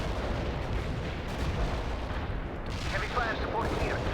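An artillery barrage in the real-time strategy game World in Conflict, with continuous distant rumbling impacts and gunfire forming a dense, steady roar, plus a few brief voice-like bursts near the end.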